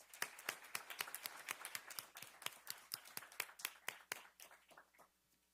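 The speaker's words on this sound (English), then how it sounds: "Let's give Kristen a round of applause" Applause honoring a high school student at a school board of trustees meeting, a steady run of sharp claps from a modest crowd that thins and fades out toward the end.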